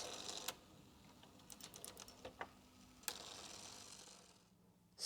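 A Casio FP-1011PL ALPS plotter printer mechanism, out of its casing, drawing circles: quiet clicking and ratcheting pen movements in irregular bursts, with a few sharper clacks and a louder mechanical snap at the end.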